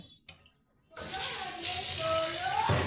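Punka greens, a leafy vegetable, being rinsed in water, with a steady running, splashing wash that starts after a second of near quiet and carries on close and loud to the end.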